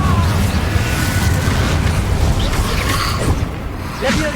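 A Confringo spell explosion in Hogwarts Legacy, dense and booming, with a continuous rumbling roar packed with crackles and hits over several seconds, partly under spoken voices.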